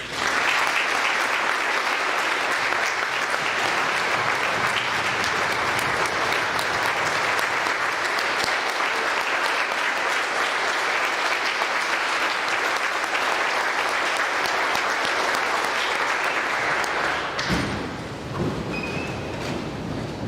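A school Veterans Day assembly audience claps for honored veterans, a dense, loud, continuous round of applause lasting nearly twenty seconds before abruptly thinning near the end.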